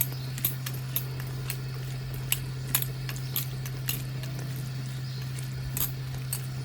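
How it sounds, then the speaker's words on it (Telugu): A spoon scrapes and clinks against a bowl while chicken pickle is mixed with turmeric and salt, giving soft, irregular metallic taps over a steady low hum, with no talking. "ఒక స్పూన్ పసుపు, ఒక స్పూన్ సాల్ట్ వేసుకొని బాగా కలుపుకోవాలి"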